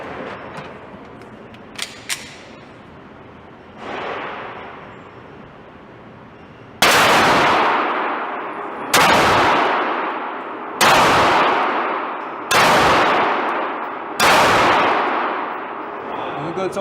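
FMK C91 Gen 2 pistol firing aluminum-cased ammunition, five sharp, loud gunshots spaced about two seconds apart with ringing decays, preceded by a few faint metallic clicks and handling noise.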